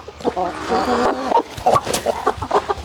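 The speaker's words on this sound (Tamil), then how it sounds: "இந்த கோழி பேர் என்னங்க இது கிளிமூக்கு விசிறி வாழ்த்த" A parrot-beak fan-tail chicken, a rare breed with a large tail, clucks in a run of close, throaty calls through the first second, followed by scattered shorter clucks and farmyard noise.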